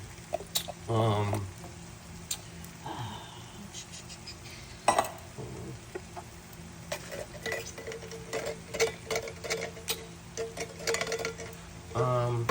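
Beans and corn are tossed into a cooking pot, giving quiet scattered clinks and soft clattering knocks with faint kitchen background noise in between.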